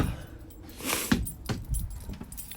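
Keys jangle close by in a snowy outdoor spot, with a burst of bright rattling followed by several sharp individual clinks and knocks, loud against a low steady rumble.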